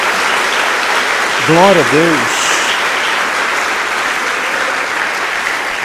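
A church congregation applauds steadily during a sermon, with loud, continuous clapping filling the room while a voice briefly speaks over it.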